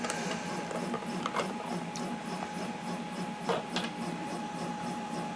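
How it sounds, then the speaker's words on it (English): A screw holding the electronics cover of a Prusa Mini 3D printer is undone, giving faint, sparse metallic clicks and ticks over a steady background hum. "now opening the screw that holds on the electronics cover"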